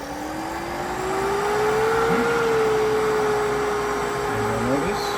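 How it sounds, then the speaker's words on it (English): A vacuum system starts up and runs, its motor tone rising steadily then holding a sustained hum with a faint higher whine, loud and close. "wait for your vacuum to start"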